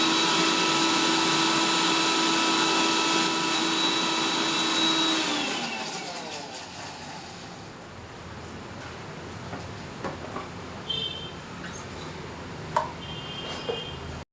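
A kitchen mixer grinder whirs loudly while blending boiled yardlong beans into a paste, then winds down and stops around the midpoint, leaving faint clicks and light kitchen knocks.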